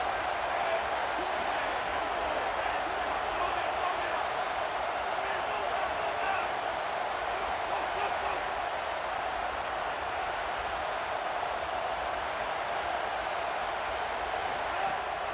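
Stadium crowd in EA Sports College Football 27 roars steadily as a big third down approaches, a dense, loud, continuous wash of cheering that fills the whole stretch.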